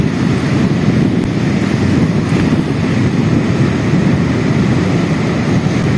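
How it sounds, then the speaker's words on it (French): Rough waves crashing against rocks under strong wind on a stormy morning outdoors, a loud continuous roar of surf and buffeting wind noise with no voices. "J'aime bien quand les vagues se déchaînent, je sais pas pourquoi. La puissance de l'eau en mouvement."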